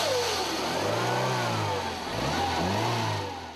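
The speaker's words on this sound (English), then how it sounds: "And this raspy yet melodic sound is quite enchanting." A Renault R16 with a large-capacity engine revs up close, its raspy yet melodic note climbing and falling in pitch twice over a steady drone, with no talking.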